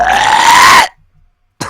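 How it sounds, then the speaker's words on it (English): A loud, close burp with a rising, drawn-out tone lasting almost a second, followed by brief silence before another sound starts. "It's perfect because, like, I kill the music right as you go to burp."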